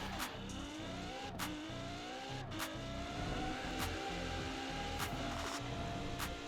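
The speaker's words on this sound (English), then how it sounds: "Let's see how fast we can get it going and listen to it." A car in the Forza Horizon 4 racing game accelerates hard through repeated gear shifts, its engine tone climbing then dropping with each sharp change, loud and continuous with no talk.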